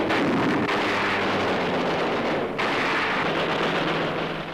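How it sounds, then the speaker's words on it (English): A blast on an anti-aircraft tower during a wartime naval air raid on Mindanao roars as a loud, dense rumbling boom, sustained and noisy throughout, with wind-buffeted distortion. "An anti-aircraft tower is blasted."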